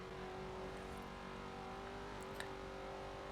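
Engine of a 1968 Pontiac Firebird restomod in Forza Horizon 4, droning steadily at high speed with a sustained, slightly wavering tone, fairly quiet and uninterrupted.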